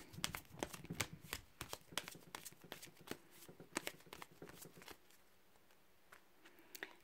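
Tarot cards being shuffled by hand during a reading, with rapid riffling slaps and flutters in a steady patter, close and quiet, and a softer stretch near the end.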